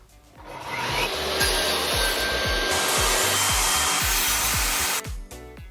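Power saw cutting lengths of wood held against a clamped fence on a small beginner workbench build: a loud, steady whining cut running nearly the whole time with rhythmic low knocks underneath, then stopping abruptly near the end.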